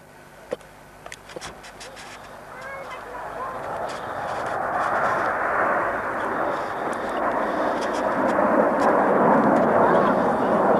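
BAe Hawk T Mk 1A jets at a 1992 RAF airshow build from a faint rumble into a loud, broad jet roar that swells and holds, with an announcer talking and a few sharp knocks early on.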